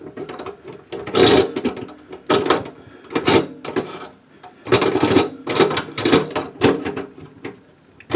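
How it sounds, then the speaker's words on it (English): Ratcheting metallic clicks of screws being tightened on a garbage disposal's top mounting plate under a sink, coming in several bursts of close, crisp mechanical rattling separated by short pauses. "And start tightening these screws up."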